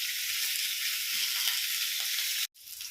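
Wild boar tapa meat sizzles in a hot pan, a steady close hiss of frying that holds evenly before cutting out abruptly near the end and resuming softly.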